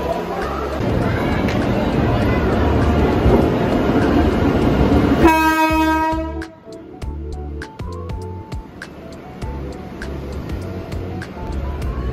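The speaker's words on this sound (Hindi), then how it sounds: "तो अभी मैं स्टेशन में बैठी हूँ और अभी मुझे जाना है उज्जैन के लिए, और ट्रेन अभी आ रही है।" A train arrives at an Indian railway station on the route to Ujjain. A loud rolling rumble builds, a long sharp horn blast sounds, then a quieter rhythmic clatter of wheels follows.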